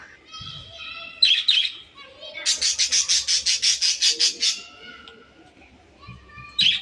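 A parakeet lets out a rapid run of harsh, repeated squawks amid other chirps and chatter, with faint voices in the background.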